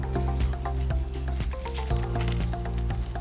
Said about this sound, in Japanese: もう鹿焼いていく。